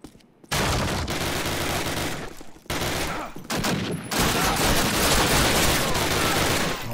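Rapid bursts of gunfire from the 2003 Call of Duty game during the Operation Overlord mission, loud dense fusillades broken by short gaps, with faint background game noise.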